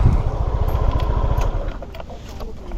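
A motorcycle engine runs close by with a rapid, throbbing low putter that eases slightly partway through, with brief clatter over it.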